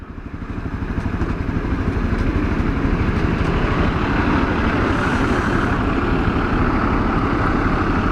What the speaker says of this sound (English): It's a big truck.